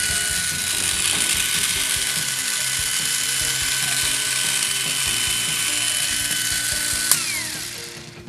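A Tamiya Mini 4WD open-class car on an MS chassis with a whale suspension setup, its small electric motor and gears whirring in a steady, high mechanical buzz, close up and alone, with a sharp click near the end.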